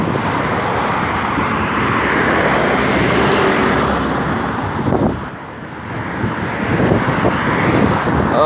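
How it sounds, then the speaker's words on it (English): Continuous roar of road traffic with cars passing nearby, plus gusty wind buffeting the microphone; a brief lull midway before the rumble returns. "Plus, I don't want all these cars ruining my audio."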